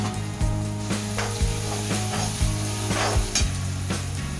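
Spices and turmeric fry in hot oil for chole, a steady close sizzle with rhythmic stirring scrapes about every half second.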